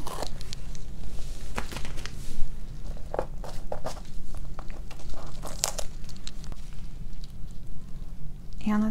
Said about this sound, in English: So just going to remove the tape so that I can pick it up.